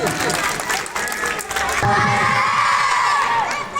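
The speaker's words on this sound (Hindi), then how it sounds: "एक बार जोरदार ताली हो जाए।" A village crowd at an Ambedkar Jayanti celebration in Padhana claps and cheers, with children's shouts and mixed voices rising into a sustained roar of applause and whistling.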